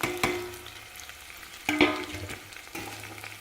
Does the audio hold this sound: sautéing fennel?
yes